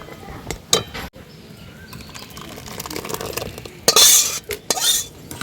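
Cooked Gobindobhog rice and reduced milk are stirred in a metal pot with a spoon, giving close scraping and clinking strokes that come in irregular bursts, louder toward the end.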